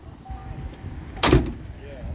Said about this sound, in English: We got to really slam this door because that bushing's gone.